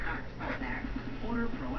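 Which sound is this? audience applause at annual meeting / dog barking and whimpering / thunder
dog barking and whimpering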